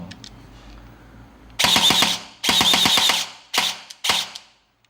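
A Guarder AKM airsoft gun fires full auto in four bursts, two longer strings of rapid mechanical cracks followed by two short ones, loud and close with brief silences between.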